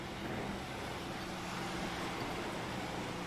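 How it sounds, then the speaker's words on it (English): A race car engine in the iRacing sim, at a Daytona race night, drones as a steady, moderately loud roar with no voices over it. "We hear his engine go, but he's still able to drive the race car after the fact."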